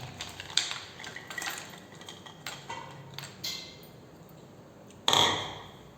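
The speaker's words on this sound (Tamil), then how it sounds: "இப்போ இதில் வந்து ஐஸ் கியூப் சேர்த்துக்கலாங்க" Ice cubes drop into a watermelon summer drink. Light glassy clinks and rattles come at first, then quieter handling noise, and a louder clatter near the end.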